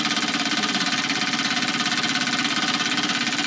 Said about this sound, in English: It's fairly noisy. You want a door open because this little burner is pretty fumey.